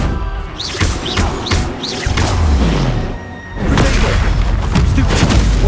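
Fiery curse blasts from a spell in Hogwarts Legacy, a video game, go off as loud booming explosions amid battle noise, with several sharp bursts near the start.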